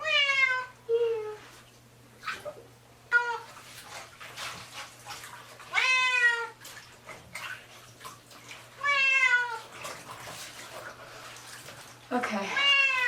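A cat meows repeatedly in drawn-out, rising wails during a bath, five or six loud cries spaced a couple of seconds apart, over splashing water and a low steady hum.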